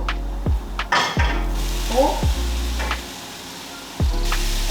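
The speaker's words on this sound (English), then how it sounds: "Okay, our onions are golden brown, so we're gonna add our tofu." Tofu is added to golden-brown onions frying in a pan, with a low background hum, a loose sizzle and several sharp clinks and scrapes of a utensil against the pan as it is stirred.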